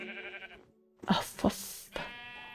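Sheep bleat in the Minecraft video game, a few short nasal calls in quick succession alongside brief in-game tones.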